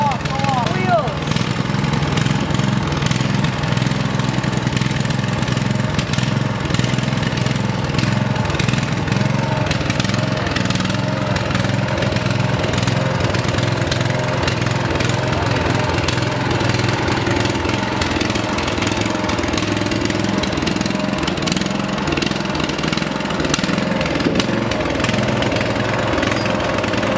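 A tractor engine runs steadily while the tractor is loaded onto a trailer at a shop, producing a continuous loud, low drone with a slight throbbing quality that never lets up. People's voices are heard now and then over the engine.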